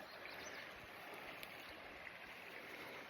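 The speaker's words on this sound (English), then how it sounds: "As you can see, there's the creek there." Steady, faint rushing of a creek flowing continuously, a soft broadband wash of moving water with no voices over it.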